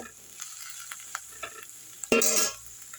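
Ingredients for thuthuvalai leaf chicken chops are sautéed in a pan, with quiet sizzling and scattered spatula taps, then one louder scrape-and-stir near the end.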